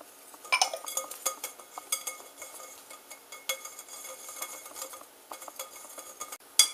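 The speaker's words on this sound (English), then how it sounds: "Now we take all the dry ingredients and mix them together." Dry ingredients, salt and baking powder for pinwheel cookies, are stirred together in a bowl with a utensil, making a steady run of light scraping clinks and taps at close range with no talking.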